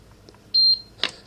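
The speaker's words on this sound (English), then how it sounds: "You'll hold it, you'll hear an audible beep." A single sharp electronic beep from a Runxin multiport valve's control button, brief and clear, followed by a soft click in a quiet room.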